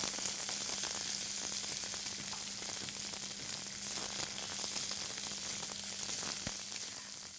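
Onions for a South Indian drumstick curry fry in a pan with a soft, even sizzle and faint crackle, quiet and continuous with a low steady hum beneath.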